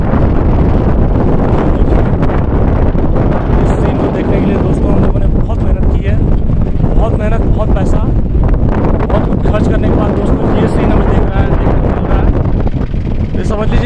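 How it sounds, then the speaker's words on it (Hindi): Strong, constant wind roars and buffets the microphone at a high-altitude holy site in North Sikkim, loud and unbroken throughout, with a voice talking underneath. "यहाँ बात करना मुश्किल है, बहुत तेज हवा चल रही है, बहुत तेज।"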